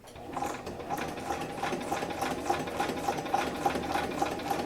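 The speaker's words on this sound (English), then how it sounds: "you can just depress your pedal and then just make sure that you're moving your card in a straight line along the presser foot" A sewing machine stitches steadily through a paper card, its quick regular mechanical clatter running without pause at close range in a quiet room.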